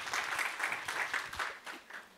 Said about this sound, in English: Everybody give that person a round of applause.